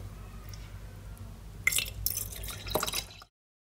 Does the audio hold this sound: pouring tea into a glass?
yes